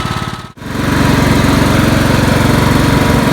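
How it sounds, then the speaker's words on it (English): A lawn mower tractor with a new Kohler Courage engine runs loud and close, its steady throbbing drone starting just after a brief cutout near the start and continuing without pause. "And a new Kohler Courage engine."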